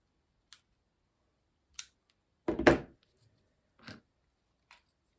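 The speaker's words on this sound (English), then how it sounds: "I'm going to trim off the hangers." Scissors snip plastic hangers off snowflake Christmas decorations for a wreath, a handful of sharp, isolated clicks and cuts spaced a second or so apart, close and quiet, with one louder double snip in the middle.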